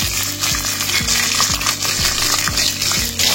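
Steady, crackling sizzle of spices frying in hot oil, loud and close, with occasional stirring clinks over a low rumble.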